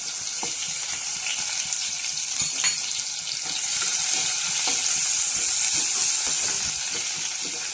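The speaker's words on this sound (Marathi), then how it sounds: "आता यामध्ये लसूण ठेचलेला टाकून घ्यायचा आहे।" Crushed garlic frying in oil with a pinch of kasuri methi for a whole masoor curry, a steady close sizzle that swells louder midway, with scattered scrapes and ticks of stirring throughout and no voices.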